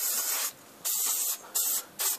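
MR150 parting agent sprayed from an aerosol can into a silicone mold: four short, close hissing bursts separated by brief pauses, with no talking.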